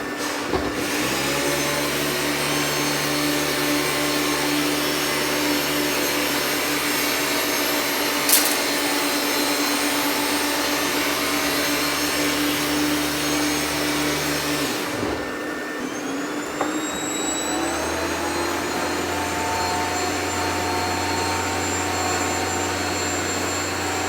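A Rainbow vacuum cleaner with the nozzle attached runs with a steady, loud motor whine and hum, cuts out briefly, then restarts at a lower, steadier tone.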